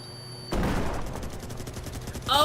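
Rapid automatic gunfire from a first-person shooter tournament match bursts in suddenly and keeps up a dense rattling stream of shots at a steady, fairly loud level.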